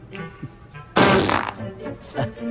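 A fart noise plays as a phone ringtone, one loud, wet, spluttering burst lasting about half a second in the middle of a comedy skit, with speech and room sounds around it.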